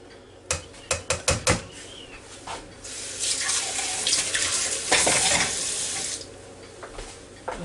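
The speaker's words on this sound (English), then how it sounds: "Pour my milk in." Milk poured into a cheese quiche mixture for a Ninja Foodi, a few sharp clinks at first, then a sustained splashing, gurgling pour lasting several seconds before tapering off.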